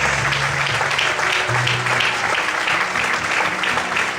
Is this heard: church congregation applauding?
yes